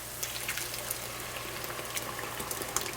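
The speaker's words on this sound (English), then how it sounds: "I'm gonna pour in the blended tomato base, which is gonna be the main part of the stew." Blended tomato base for Ghanaian jollof rice is poured into a cooking pot, giving a soft, continuous liquid splashing and trickling with small bubbly pops, close and fairly quiet.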